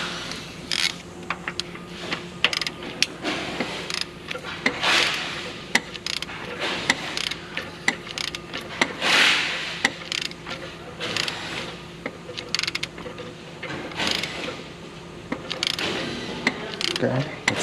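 Ratchet turning the crankshaft of a 2020 Genesis G70 2.0T engine: steady rapid clicking and mechanical rattling throughout, close and moderately loud, with a faint background hum.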